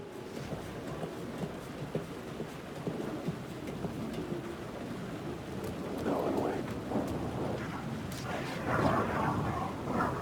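Steady rain pours in the Alan Wake 2 video game, with low thunder rumbling underneath; the wash of rain thickens and grows louder toward the end.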